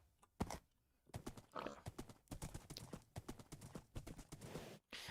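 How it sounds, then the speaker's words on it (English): Hooves of a ridden horse in the Minecraft video game clip-clop in quick uneven bursts, close and clear, with a brief pause near the start and a short thunk near the end. "This horse cannot jump very high."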